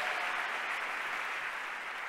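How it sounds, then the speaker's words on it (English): An audience at a leadership forum claps steadily, a dense, even wash of many hands sustained at fairly strong volume throughout. "You can also clap for him once again,"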